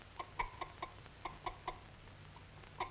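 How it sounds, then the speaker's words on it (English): A fussy old hen clucks in a quick series of short, sharp calls, clustered at first and then spaced out, with one last cluck near the end, over faint background hum. "This fussy old hen doesn't like to have cats and kittens around"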